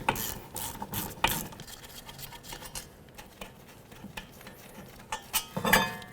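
Caliper bracket mounting bolt being removed from the rear brakes of a 2006–2012 Ford Fusion, with light metallic clinks and scrapes of tool and bolt, scattered at irregular intervals and close by.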